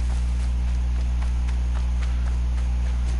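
Metallic hoof-like footsteps of a horse-shaped machine walking in Horizon Zero Dawn, a steady clip-clop rhythm at moderate distance over a loud constant low hum.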